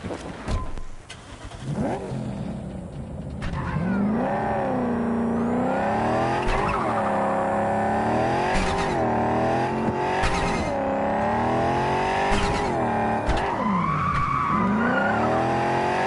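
A car in the Cyberpunk 2077 video game drives hard with a loud, steady engine roar, and tires squeal repeatedly through skids and turns. The engine rises and falls over the whole stretch, with no talking.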